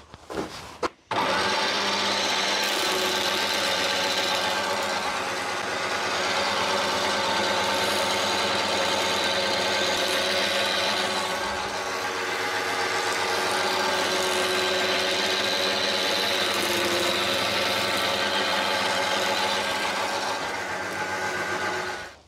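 A Proxxon DH40 thickness planer planes small wood pieces, starting with a click and then a loud continuous motor whine and cutting hum close by, steady for about twenty seconds with slight dips in pitch.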